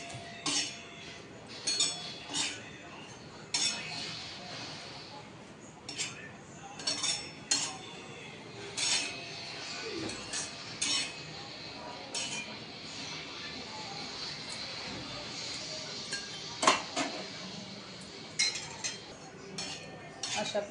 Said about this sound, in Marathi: अशा पद्धतीत खोबरं भाजून घ्या